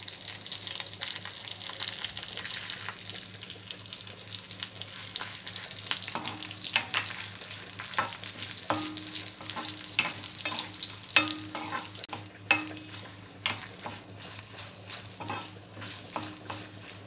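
Dry red chillies and coriander seeds frying in hot oil for a sorrel-leaf chutney, a steady close sizzle with occasional scraping stirs and clinks, no voices.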